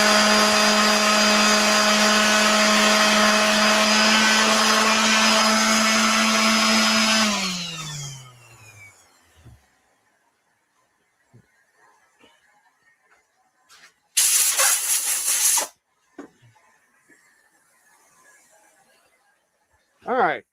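A sandblaster roars in a loud steady hiss over an engraved piece, then winds down and stops, followed by quiet handling clicks and one more short, loud blast burst.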